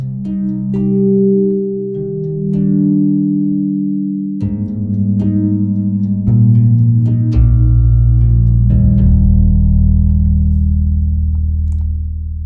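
A synth harp plug-in preset with effects plays sustained plucked notes in a slow melodic line, each note ringing out with a long reverberant tail as chords build and layer.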